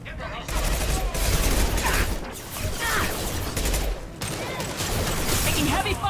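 Heavy gunfire rattles through a Mass Effect firefight against Blue Suns mercenaries and Vorcha, dense rapid bursts running almost without pause, loud and close, with voices mixed into the din.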